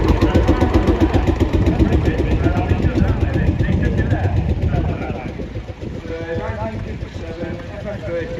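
A Drake Ferguson orchard tractor's engine runs at a steam fair with a rapid, even chugging beat, loud and close, easing slightly in the second half, with a voice heard over it.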